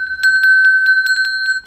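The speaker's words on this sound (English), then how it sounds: "grace your home with ancient music from your new twist bell" A hand-tuned twist bell, hammered into shape from recycled tin and iron sheets, rings close and clear, a run of quick metallic strikes over a bright sustained tone that fades out at the end.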